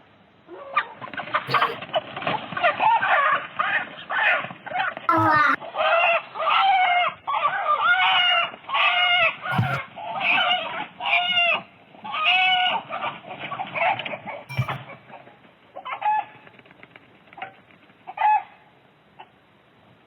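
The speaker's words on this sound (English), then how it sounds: "You got a chicken here, getting attacked." A chicken under attack by a goat: frantic, loud squawking and clucking in rapid bursts for most of the stretch, with sharp thumps between them, then trailing off into scattered cries.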